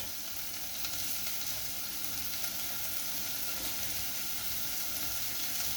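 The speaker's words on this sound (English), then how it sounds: "add the drained lentils to the onion and cook for 3 to 4 minutes" Drained lentils fry with onion in a pan, giving a steady, close sizzle that continues evenly with faint stirring and no talk.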